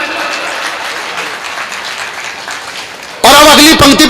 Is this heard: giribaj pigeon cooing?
no